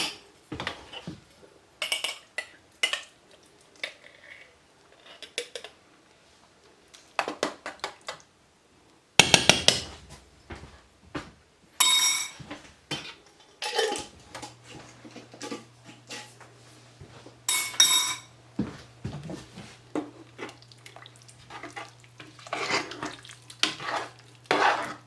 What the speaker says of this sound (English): we add our marinade